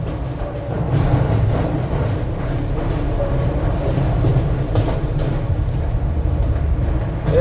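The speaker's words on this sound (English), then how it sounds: "There's the train." A train passes on rails as a steady, loud rumbling roar with faint rattling that holds evenly throughout without a break.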